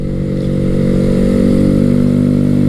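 Honda Grom 125 motorcycle pulling steadily from low revs, a loud, close single-cylinder engine drone holding an even, rising note throughout with no speech.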